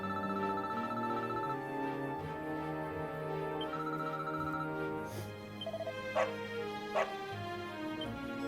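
Dog barking in Dragon Quest XI, a couple of short sharp yips rising over a steady layer of game music near the end.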